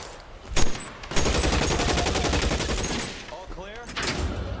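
Gunfire in the video game L.A. Noire: a single loud shot, then a long rapid automatic burst lasting about two seconds, and another shot near the end, with voices shouting in the scene.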